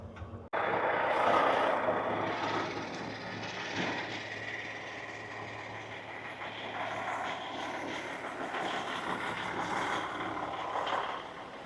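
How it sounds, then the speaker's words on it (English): Diesel truck idling near a warehouse loading dock door, a steady loud engine rumble that holds across the whole stretch with slight swells, no talking. "I see a truck in the door."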